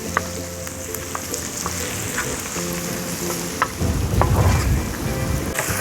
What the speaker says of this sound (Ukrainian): Цибулька підрум'янилась, додаємо перчик